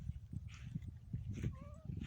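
Domestic cat meowing near the microphone, a couple of short rising-falling meows standing out over low background rumble, with no talking.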